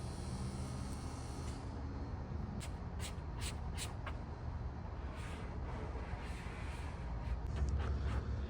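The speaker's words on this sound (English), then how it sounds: "We got the soapy water here that we're gonna spray on" Several short, crisp bursts from a spray bottle of soapy water around the middle, repeated in quick succession over a steady low background rumble and faint shuffling.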